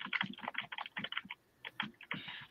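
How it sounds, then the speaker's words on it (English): Rapid typing on a computer keyboard, dense bursts of clicking keystrokes in quick irregular runs with a short pause midway, close and moderately quiet, no talking. "I'm typing away here."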